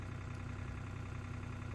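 A tractor engine runs steadily nearby, a dense low rumble with a fast, even knocking pulse and no change in pace, with no voices.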